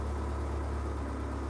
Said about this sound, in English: It's idling and running.